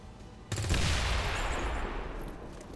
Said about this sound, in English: I'm gonna shoot that explosive